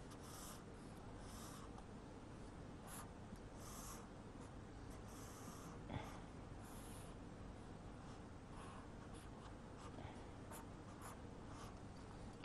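Marker or chalk scratching as a diagram is drawn on a board during a science lesson, faint repeated rubbing strokes in short bursts over low background hiss.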